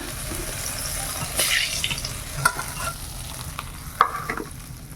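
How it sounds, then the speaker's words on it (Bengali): Fish frying in a hot pan in a home kitchen, a steady sizzle with occasional stirring clinks and scrapes, close and fairly loud with no talking. "সব মাছ ভাজা হয়ে গেছে এইবারে রান্না করে নেব"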